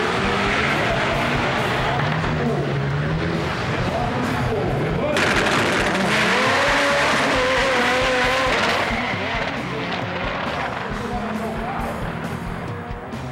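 Front-wheel-drive drag racing cars at an event in the 2009 Paraná championship roar loudly, with high-revving engines, rising gear pulls and popping exhaust bursts, under a narrator's voice.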